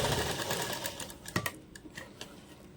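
An electric sewing machine stitching lehenga blouse fabric, heard as a short close burst of rapid mechanical clatter that slows into a few scattered ticks and thumps, with no voices.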